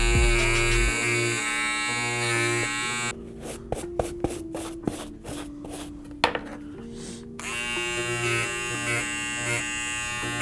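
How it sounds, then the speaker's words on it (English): Electric clippers shave frayed suede on an Air Jordan Cool Grey 3 sneaker. A steady buzzing hum cuts out, leaving a stretch of light clicks and taps, then the motor drones again. "So as you can see in this area right here, it's pretty frayed. So we'll grab our clippers and simply just shave it off."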